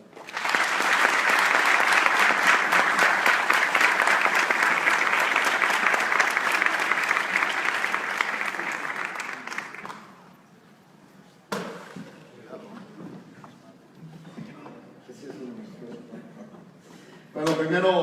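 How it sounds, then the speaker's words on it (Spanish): A strong round of audience applause at a university conference in Mexico, loud and sustained for about ten seconds before dying away, followed by a quieter stretch with some scattered sounds and a voice. "les pedimos un fuerte aplauso"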